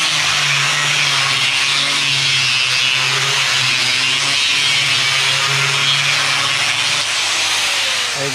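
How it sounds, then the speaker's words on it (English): An aggressive grinder disc scratches across the surface of a brand new plywood sheet, a loud continuous abrasive roar with a steady motor hum underneath, close up and unbroken throughout. "when you take an aggressive grinder like this, and I'm gonna demonstrate what kind of surface I would put"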